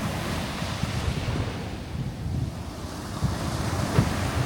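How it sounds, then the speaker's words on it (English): Steady wind buffets the microphone beside the ocean at Ocean Cay, Bahamas, with surf washing in the background and occasional faint knocks. "There's also a good breeze over in this section."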